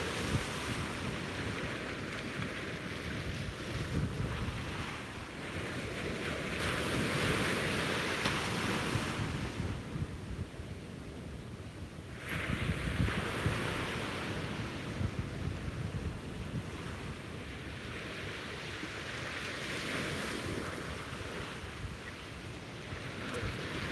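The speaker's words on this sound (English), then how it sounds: "Soak in the sounds of the waves and set our intentions for the day." Ocean waves breaking on a beach at sunrise, a steady loud wash of surf with slow swells and retreats, mixed with wind noise, no voices.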